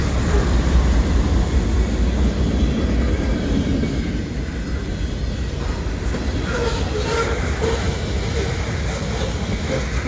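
A freight train rolls past Dorval Station on the CN side of the tracks in a blizzard, a continuous loud rumble and wheel noise with wind, easing slightly partway through.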